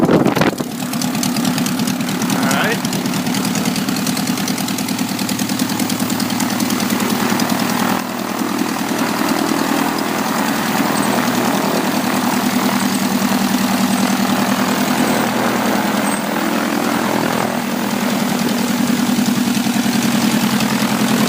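A Revmaster aircraft engine with 51.7 hours runs steadily after a cold start, a loud continuous low throb and rattle that holds even throughout, idling close by with no talk.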